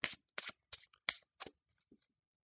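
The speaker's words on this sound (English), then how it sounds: "We're going to give the deck a few shuffles here." A deck of playing cards is riffled in several quick shuffles for a card trick, each one a short, crisp, close flutter, with brief pauses between them.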